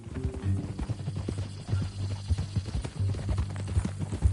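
Horse hooves clip-clop at a steady walking pace in the video game Red Dead Redemption 2, close and clear, over a low hum with a few sustained tonal notes.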